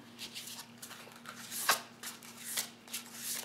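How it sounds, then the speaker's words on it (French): Oracle cards are shuffled by hand in a quiet room, a soft run of papery riffles and slides with one sharper snap partway through, faint and close with no talking. "on va tirer une carte de murmure de guérison"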